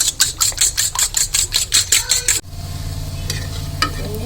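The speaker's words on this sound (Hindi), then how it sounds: "निगेट्स भी फ्राई हो रहे हैं।" Chicken nuggets fry in a pan, opening with a rhythmic run of about a dozen scraping stirs, then settling into a quieter steady sizzle with a few faint clinks.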